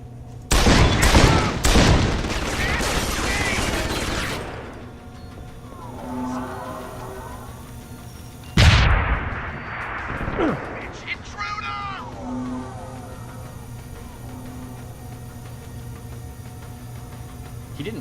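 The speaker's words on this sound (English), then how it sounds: "It will kill this one, and then we can shoot this guy with our pistol." Pistol gunfire in Deus Ex: Human Revolution comes as a loud burst of several sharp shots up front, then one more hard report midway, with game ambience and faint voices underneath.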